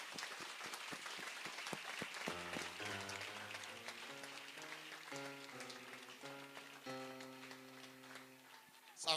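A congregation at a church meeting in Gabon applauds and acclaims God, with scattered clapping mixed with sustained sung or played notes. The sound is faint and distant, and a sharper burst comes at the very end.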